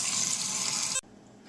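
Tap water runs steadily while beans are rinsed in a sieve, a broad close splashing hiss that cuts off abruptly as the faucet is shut, leaving a quiet room.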